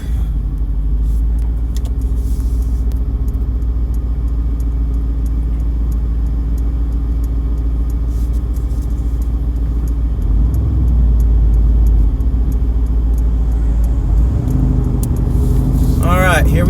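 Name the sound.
Mercedes-AMG GT R twin-turbo sports car driving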